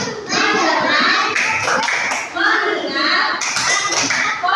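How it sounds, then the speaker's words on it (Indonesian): A class of children claps together in rhythmic bursts, loud and close, with young voices chanting and talking throughout. "Kita tepuk bersama-sama ya."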